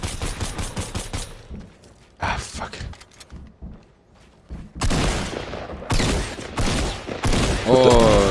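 Bursts of automatic gunfire in the video game Fortnite, rapid loud volleys that stop and start, the later ones heavier and denser, with excited players talking over the shooting.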